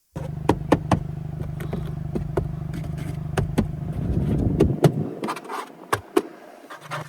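Hard plastic door panel inside a 2022 Hyundai Kona N being tapped, giving a series of sharp, hollow knocks at an irregular rhythm over a low steady engine hum that drops away near the end.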